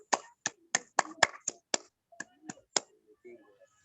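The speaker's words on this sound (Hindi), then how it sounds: "तो एक बार शानदार तालियों के बीच में मिस्टर अर्जुन मनहरे जी।" A small audience at a morning plan meeting claps to welcome a speaker: about nine sharp, separate hand claps ring out close by at an uneven pace, then fade into quiet shuffling.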